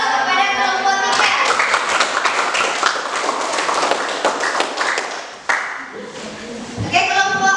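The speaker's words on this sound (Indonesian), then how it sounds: "beri aplaus kepada kelompok 3" A classroom audience applauds a presenting group during a teaching-practice session: a few seconds of brisk, fairly close clapping, with a voice speaking before and after.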